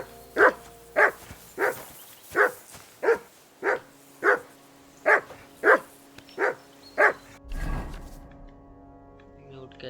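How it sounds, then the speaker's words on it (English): A dog in Kingdom Come Deliverance II barks in a steady rhythm, about eleven evenly spaced barks, followed by a low thud and fading rumble. "Whistle at that mutt of yours to stop barking."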